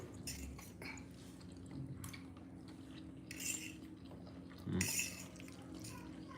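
Spoons and cutlery clinking against plates while eating breakfast tiffin at home, scattered light clinks and a louder clatter near the end, fairly quiet and close.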